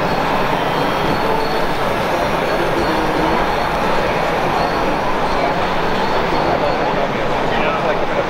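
Model train rolling along a layout at a train show, a steady continuous rumble of wheels and motor throughout, fairly close, with crowd chatter and voices in the background.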